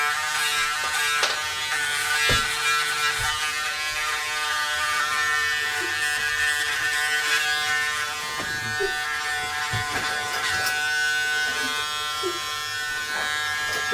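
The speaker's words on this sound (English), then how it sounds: "This thing's a beast of a razor with the dry shave" Braun Series 7 electric shaver running for a dry shave: a close, steady high buzz with faint rasping as it moves over stubble, a voice murmuring briefly underneath.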